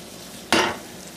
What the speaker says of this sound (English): Now I'll saute these until the onions tend to go translucent.